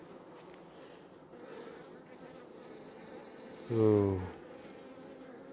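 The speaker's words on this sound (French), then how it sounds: "Les abeilles qui sont sur la paroi là-bas." Honeybees buzz steadily around an open hive during a brood and laying check, a dense low hum filling the background, swelling briefly into a louder close drone; someone speaks briefly.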